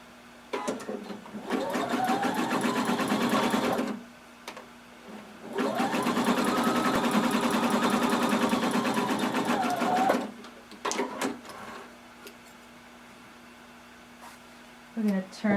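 A sewing machine stitches fabric ties for a swimsuit pattern with a 1/4 inch seam allowance, running in two long steady bursts of rapid needle chatter with a pause between, close and loud, followed by a few brief clicks.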